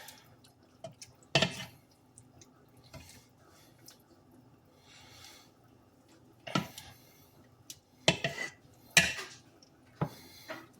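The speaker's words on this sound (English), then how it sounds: "Now you gotta stir all this up together" A spoon clatters against a pot of chili made with canned chili starter, with scattered knocks and scrapes between quieter stretches and no talk.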